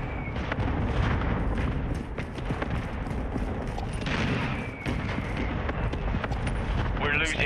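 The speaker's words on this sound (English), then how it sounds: "I'm guessing there's a mortar strike on freaking Alpha" Mortar strike in a multiplayer shooter game, a barrage of heavy booms and blasts rumbling continuously with scattered gunfire over the top, loud and dense, while players talk over the combat.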